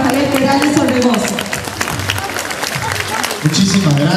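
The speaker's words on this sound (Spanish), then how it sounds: "Muchísimas gracias, gracias por los aplausos." An audience applauds a speaker at a parenting-school talk, with sustained dense clapping throughout and some voices and crowd noise mixed in.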